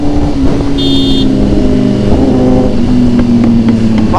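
A Kawasaki Z900 motorcycle fitted with a full Arrow exhaust system holds a loud, steady engine drone close by, its pitch rising and falling slightly throughout with no talking.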